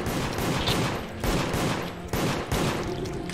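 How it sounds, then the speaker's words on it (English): Gunfire in a video game, including a shotgun, comes as a rapid series of loud blasts, several sharp bursts in quick succession over a dense background of action noise. "I shot him with the shotgun."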